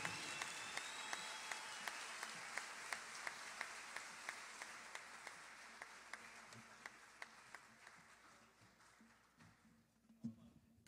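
Theater audience at a salsa concert at the Teatro Municipal de Cali, Colombia, giving quiet, distant applause that fades out, with evenly spaced sharp ticks running through it.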